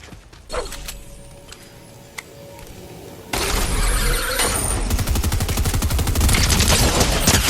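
Gunfire in the video game Fortnite, starting with a single sharp shot and a quieter stretch, then a dense, loud, continuous burst of rapid-fire shooting and impacts that fills the rest of the clip, with no talking.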